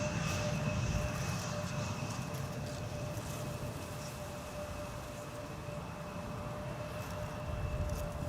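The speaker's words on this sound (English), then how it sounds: "WestJet flight 70, arriving from Halifax, Canada, MAX 8737" A WestJet Boeing 737 MAX 8 arriving from Halifax approaches Amsterdam Schiphol's Polderbaan in crosswind conditions, a continuous broad jet roar with steady whining tones, fairly distant and even throughout with gusty low rumble.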